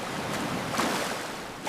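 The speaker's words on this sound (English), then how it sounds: "Careful, the waves are coming." Ocean waves wash onto a beach at sunset in a steady, close, breezy surf hiss that swells gently near the middle and again at the end.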